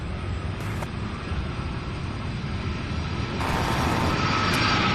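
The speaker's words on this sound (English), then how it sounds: "this flight here from Ontario, California, UPS flight 2913, a 3-year-old 767-300" A three-year-old UPS Boeing 767-300 jet, flight 2913 from Ontario, California, rumbles at Louisville's SDF airport, a steady low engine roar that grows louder toward the end.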